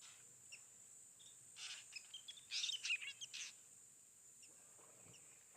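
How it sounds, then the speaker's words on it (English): A drongo at a waterhole gives a faint burst of chirps, whistles and electronic-sounding notes lasting a couple of seconds, set against quiet bush ambience with insects. "That's a drongo calling now, with his typical R2D2."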